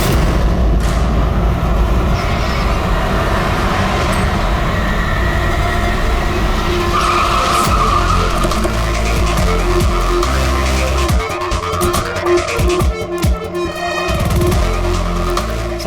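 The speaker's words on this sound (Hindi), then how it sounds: "गाड़ी अपने आप कैसे चल रही थी?" A driverless car rolls along with a loud, continuous roar of engine and road noise, tires scraping and squealing throughout, with sharper bursts of skidding toward the end.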